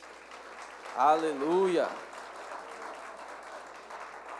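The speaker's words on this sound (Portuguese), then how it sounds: "uma salva de palmas para eles" Applause from a church congregation during an evening worship service, a steady broadband patter of clapping running throughout, with a single voice briefly calling out over it near the start.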